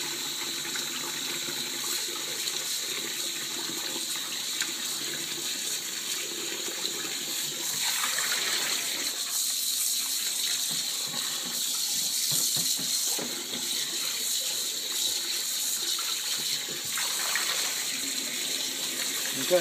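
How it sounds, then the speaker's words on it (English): Tap water runs steadily into a sink as a bass fillet is rinsed, making a continuous close hiss and splash with small shifts as the flow hits the fish. "keep running the water until the blood dissipates and it's not there anymore"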